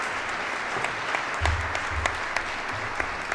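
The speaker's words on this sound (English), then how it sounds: "a big round of applause for all of the winners" A crowd at the 2023 Global Pluralism Award ceremony applauds the award winners in a steady, dense wash of clapping that holds at an even level throughout, with no voices over it.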